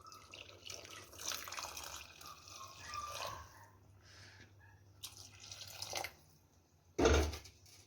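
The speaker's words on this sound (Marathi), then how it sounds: "गरम पाणी ओतून घेऊ." Hot water is poured into a pot of mutton masala as it cooks, making a faint, uneven trickling splash that ends with a sharp clunk, likely a vessel being set down.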